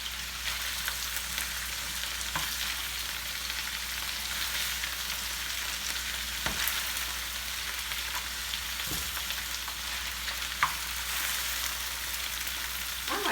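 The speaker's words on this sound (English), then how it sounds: "And what I do is I toss the kale to coat it with the olive oil." Kale sizzling steadily in hot olive oil as it is tossed in a pan, a continuous even frying crackle with a few faint clicks of utensils, no talking.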